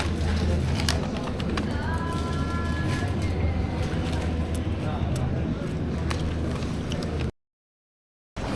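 Subway train pulling into a station in Zurich, a steady low rumble with brief high screeching tones from the wheels, followed by a short gap of silence.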